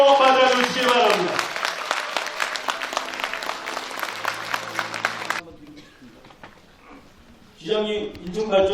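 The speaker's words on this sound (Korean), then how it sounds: "뜨거운 박수로 맞아주시기 바랍니다." Audience applause at a civic gathering with the mayor in Incheon's Gyeyang district, dense clapping that starts under a voice, holds steady for several seconds, then cuts off into quieter room sound before louder noise returns.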